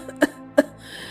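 Two short, sharp coughs about a third of a second apart, close and fairly loud, followed by quiet.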